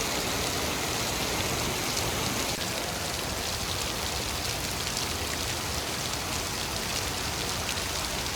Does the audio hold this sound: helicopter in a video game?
no